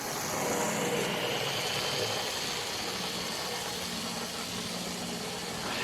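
A Lima model diesel multiple unit train's small electric motor hums steadily and fairly quietly, a constant even whir with no distinct beats and no talking.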